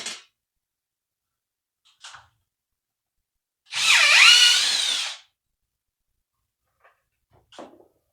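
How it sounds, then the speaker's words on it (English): A power drill bores a hole for a faux ceiling beam in one sustained whirring burst of about a second, close by, with a few faint knocks and clicks before and after in an otherwise quiet room. "And you can drill your other hole"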